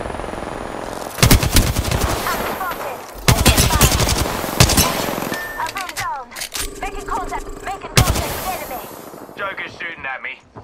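Loud bursts of rapid automatic gunfire in an Apex Legends match, several separate volleys broken by short gaps, close and punchy, with game voice lines mixed among the shots.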